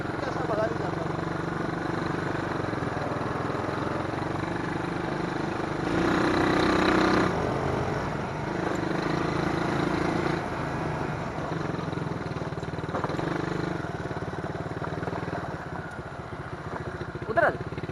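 Motorcycle riding slowly along a road at night, a steady mid-pitched engine drone with a slight swell partway through, under a rider talking.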